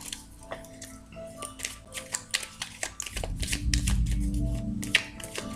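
A deck of tarot cards being cut and shuffled by hand during a reading, giving a close run of soft papery riffles and slaps, with a fuller rustling burst toward the end.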